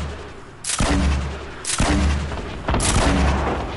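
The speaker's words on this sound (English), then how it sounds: "Shooting grenades" Grenade launcher firing in a shooter game, three heavy booming shots spaced about a second apart, each a loud broadband blast with a low thump and a lingering rumbling tail.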